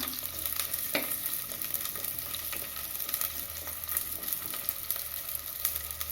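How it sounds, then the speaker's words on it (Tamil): Onions sizzle and crackle steadily in hot oil at close range, with a few sharp scrapes and clinks of stirring. "எண்ணெய் காஞ்செடுத்து ரெண்டு பெரிய வெங்காயம் பெரிய சைஸில் நறுக்கி வச்சுருக்கேன் அதை போட்டுக்கலாம்"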